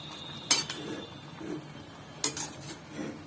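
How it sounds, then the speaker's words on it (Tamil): A metal spoon scrapes and clinks against a pot of moringa leaf and stem soup in a few sharp strokes, with soft stirring sounds between them; no speech. "இப்போ வந்து ஒரு பெரட்டி விட்டுக்கலாம்"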